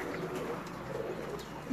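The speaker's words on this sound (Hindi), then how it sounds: "ये देखें जी कबूतर देखें आप" Pigeons at a loft giving soft, low coos, a brief close murmur with steady background hum and no clear talk.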